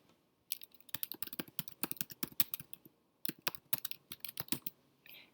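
Rapid keyboard typing, bursts of crisp key clicks in two runs separated by a short pause, close and clear.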